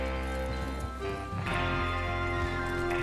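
In Red Dead Redemption 2, horses gallop with rapid, rhythmic hoofbeats over a dense bed of game music and ambience, steady and fairly loud throughout.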